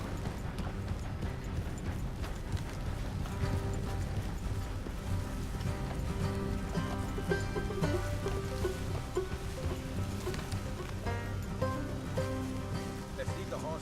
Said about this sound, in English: Let's leave the horses here and go the rest on foot.